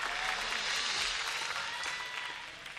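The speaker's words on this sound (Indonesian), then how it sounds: "tepuk tangan buat tinggalnya dong." Audience at a stand-up comedy show applauding loudly, a steady wash of clapping that fades slightly toward the end.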